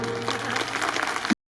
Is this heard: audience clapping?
yes